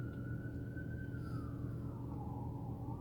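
Emergency vehicle siren wailing at a distance, one long steady tone that slowly dips lower in pitch, faint and continuous over a low background hum.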